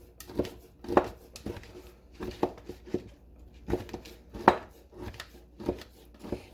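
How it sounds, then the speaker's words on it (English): Knife roughly chopping a handful of cooked bacon on a cutting board, a series of irregular sharp thuds and taps, close and fairly quiet. "I've got a handful of cooked bacon and I'm just going to give it a nice rough chop"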